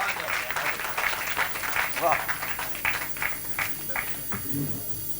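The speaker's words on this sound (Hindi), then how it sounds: "आपकी तालियां बताएंगी कि आप उन्हें सुनना चाहते हैं" An audience at a Hindi poetry gathering, a kavi sammelan, claps for poet Ashok Chakradhar with uneven, moderately loud applause and distinct individual claps, while a voice talks over it toward the end.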